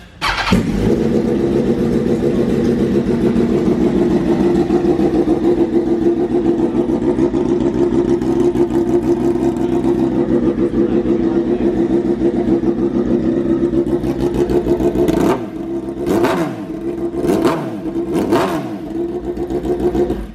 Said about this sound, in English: let's do a little bit of first startup with no muffler on it